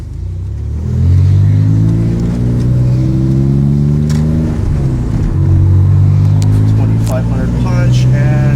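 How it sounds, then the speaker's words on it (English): A 1996 Dodge Stealth R/T with a tuned twin-turbo engine making a second-gear pull, a loud, close, sustained engine note climbing steadily in pitch with one brief dip midway. "going to do a second gear pull, hoping to get a big gain"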